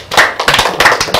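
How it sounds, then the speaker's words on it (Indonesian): An audience at a Palembang city anniversary event claps, a brief burst of sharp hand claps in a quick, uneven rhythm lasting about a second. "Boleh tepuk tangan."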